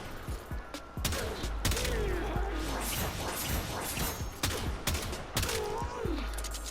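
Tiberon Prime rifle in the game Warframe firing in semi-auto mode: irregular sharp shots and impact bursts, loud and close, mixed with whooshing effects and chirping synthetic tones in the game's combat.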